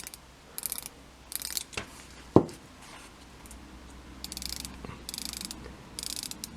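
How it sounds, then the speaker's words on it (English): Rotating bezel of a Seiko SRP307 Monster automatic dive watch clicking in small ratcheting bursts, close and quiet, with one sharper click standing out. "Yeah, this one is a lot smoother. You can even hear from the click."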